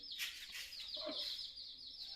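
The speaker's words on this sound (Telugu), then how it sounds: "ఇది ఒక కోడి, అంతే." A chicken clucks faintly at a home during Pongal, giving a few soft, brief calls against a quiet, hissy background.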